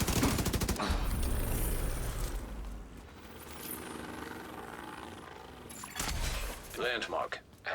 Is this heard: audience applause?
no